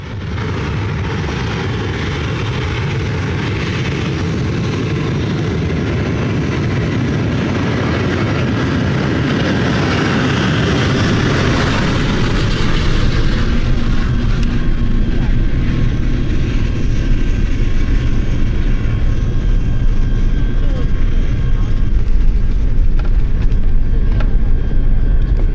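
A Starlux Airbus A350 touches down on runway 26 right at Ontario, California, a loud, steady roar of engines and rushing air heard from inside the cabin that grows heavier and rumbles as the wheels meet the runway.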